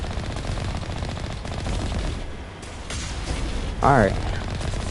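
A Gatling gun fires in the Mass Effect video game, a continuous rattling burst of gunfire under game noise, with a brief spoken word from a player and a sharp effect rising near the end.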